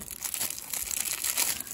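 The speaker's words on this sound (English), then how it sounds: "I just got to rip off the plastic" Plastic wrapping crinkles and tears as it is ripped off a display stand for an Eaglemoss Hero Collector Star Trek starship model, a close, busy burst of crackling rustles with no pause.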